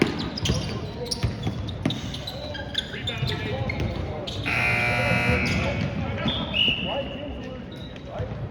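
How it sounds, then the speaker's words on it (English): Buzzer sounding in a gym during a high school basketball game, with Line Mountain playing, a sustained loud tone over crowd noise, ball bounces and sneaker squeaks, with people talking nearby. "And so the buzzer has sounded to get back on the floor."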